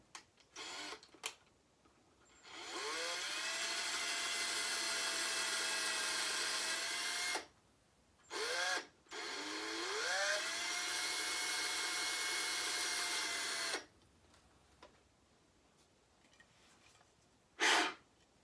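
A nearly empty can of compressed air sprays onto an old Sinclair bagpipe chanter in two long hissing blasts with a few short puffs, close and loud against otherwise quiet surroundings.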